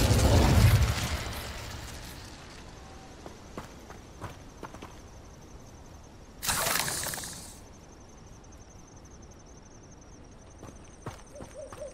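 An Incendio fire spell cast in Hogwarts Legacy opens with a loud fiery burst, followed midway by another short broadband whoosh over quiet game ambience with a steady high tone.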